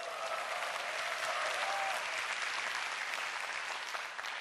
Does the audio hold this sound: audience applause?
yes